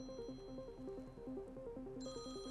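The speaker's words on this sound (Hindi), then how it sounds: "घंटी बज रही है।" A phone ringtone plays a repeating electronic melody, steady and moderately quiet, with no voices.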